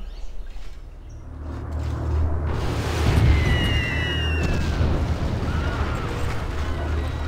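Explosions from a bombing run in the strategy game Civilization V, a sustained rumbling boom with heavy low-end roar swelling around the middle, with faint whistling streaks above and no talk.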